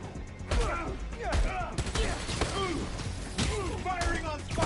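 Gunfire in the video game Spider-Man: Miles Morales, repeated sharp shots and impacts amid chaotic combat noise, with voices shouting over the action.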